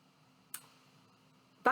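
Two faint, crisp computer mouse clicks spaced about a second apart while working in PFAFF mySewnet embroidery software, set against a quiet room hum.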